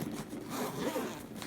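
Zipper on a drone carrying case being pulled open in one steady, continuous rasp lasting about a second and a half, close and moderately loud, with no talking.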